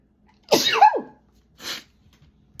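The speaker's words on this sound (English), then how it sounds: "let me sneeze, y'all, hold on." A woman sneezes once sharply and loudly up close, followed a moment later by a softer breathy sound, in an otherwise quiet room.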